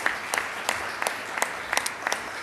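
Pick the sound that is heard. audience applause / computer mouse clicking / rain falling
audience applause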